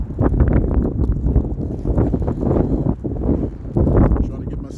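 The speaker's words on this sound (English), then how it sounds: "It's extremely windy." Strong wind buffets the microphone outdoors at a camp, gusting in loud irregular bursts throughout, with a person's voice faintly mixed in.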